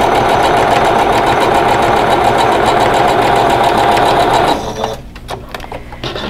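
A sewing machine runs steadily, stitching fabric pieces for a quilt block in a continuous fast hum, then stops partway through, leaving a few faint handling clicks and rustles.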